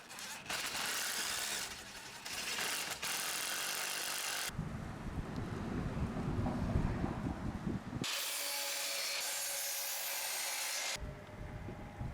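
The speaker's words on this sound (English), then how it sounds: "Let's drill." A power drill bores into cedar boards for a birdhouse in several loud, harsh bursts separated by brief pauses and quieter low whirring, with no talk.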